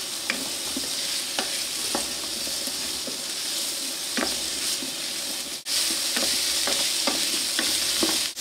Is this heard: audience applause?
no